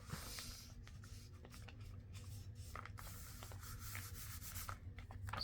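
Paper sheets for a digital kit and ephemera journal slide and are trimmed at close range, giving a steady soft scraping and rubbing texture with small crisp cuts throughout.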